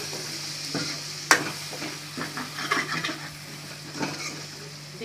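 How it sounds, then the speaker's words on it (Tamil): Garlic and onion soften in hot oil for a Tamil garlic curry, a soft continuous sizzle broken by intermittent spatula stirs and one sharp clink of metal against the pan. "அந்த எண்ணெயில் நல்லா அப்படியே வதங்கிருச்சு, சுருண்டு வதங்கிருச்சு."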